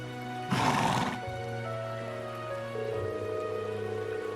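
A horse named Arthur neighs on a mountain path in the video game Trails of Cold Steel 2, a single loud whinny lasting about half a second, followed by steady background ambience and music.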